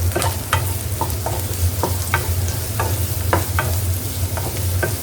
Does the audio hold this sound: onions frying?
yes